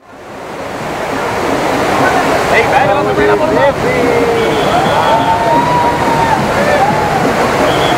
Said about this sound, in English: There are 3 waterfalls right next to each other